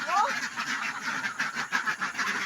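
Ducks on a duck farm quack in a steady, dense chorus of overlapping nasal calls, loud and close, while a person speaks briefly near the start.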